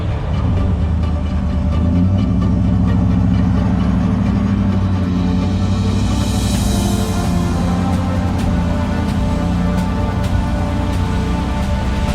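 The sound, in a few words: Toyota Tacoma engine revving, wheels spinning in flood water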